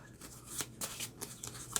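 Playing cards being shuffled during a Marvel Champions card game, a quiet run of soft riffling bursts and flicks up close, with no voices.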